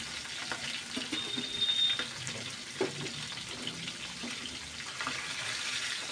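Fresh poa fish frying in hot oil, with a continuous close crackling sizzle and intermittent spitting pops throughout, heard alone with no speech.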